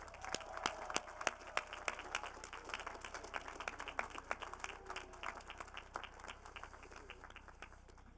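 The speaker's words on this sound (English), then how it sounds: "Graduates, how about a round of applause for your families?" At an engineering school diploma ceremony, the audience claps for the graduates' families in a fairly distant hall, with sparse individual claps scattered through a soft wash of applause.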